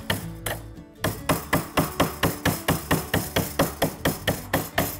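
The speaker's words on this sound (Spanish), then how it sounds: "a medida que vamos atizándolo aquí a la pobre pletina, va tomando esa forma, hasta que consigamos una forma así como una jota" A flat metal strip is hammered into a J shape while making a wall-mounted wine rack from a barrel, with a rapid, even series of sharp ringing blows close by and no talking.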